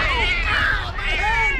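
A cat meows in a short, close, clear call, with a second rising mew near the end, over a faint low background hum.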